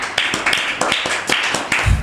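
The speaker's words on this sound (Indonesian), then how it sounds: "Tepuk tangan semuanya." An audience at a theatre discussion event claps in a quick rhythmic burst of close, sharp hand claps that carries on throughout.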